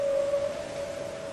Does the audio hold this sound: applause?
no